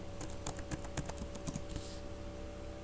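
Keys clack on a computer keyboard as a command and then a password are typed, a quick, close, fairly faint run of taps followed by a short pause.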